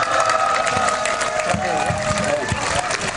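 Crowd applause and cheering at an outdoor candlelight rally in Daejeon, a dense continuous roar of clapping that fills the whole stretch without a break.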